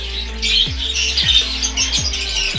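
Pet birds in a small home breeding cage setup chirp and squawk continuously at close range, bright overlapping calls over a steady low hum and a repeating low background thump.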